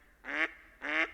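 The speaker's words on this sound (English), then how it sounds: "And that is a quack right there." A dabbling duck gives two short, nasal quacks about half a second apart, fairly faint against a quiet background.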